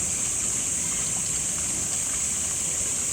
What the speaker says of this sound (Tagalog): Tapos yung daloy ng tubig natin dyan.